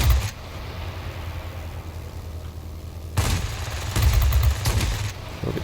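Hurricane IID fighter cannon fire in World of Warplanes: short loud bursts of rapid shots over a steady engine drone, with three separate volleys in the second half.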